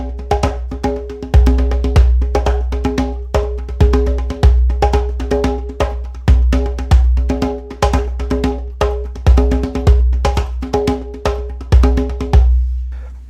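Samba drum rhythm at a steady tempo with added accents, dense repeating strikes over a deep low drone, some hits louder than others, played close and loud before stopping near the end.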